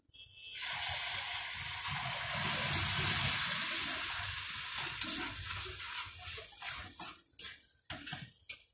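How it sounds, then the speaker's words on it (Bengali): Milk poured into semolina in a pan and stirred in, a loud rushing sizzle and pour at first, giving way to scraping stirring strokes near the end, with no talking. "এবার আমি দুধটা এর মধ্যে ঢেলে দিচ্ছি।"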